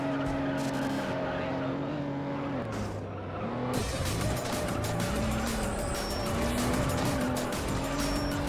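Tyres skid and squeal as a car slides around in the racing video game Juiced, with a steady engine drone under noisy, broadband screeching that grows harsher after the midpoint.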